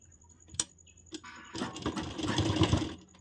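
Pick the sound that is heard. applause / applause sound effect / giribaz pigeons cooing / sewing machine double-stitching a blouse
sewing machine double-stitching a blouse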